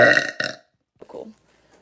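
A woman lets out a single loud, close burp lasting about half a second, followed after a short pause by a quieter, brief vocal sound.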